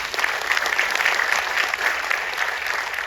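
Audience applause at an RCM business gathering in Noida, a close, loud, steady patter of many hands clapping throughout.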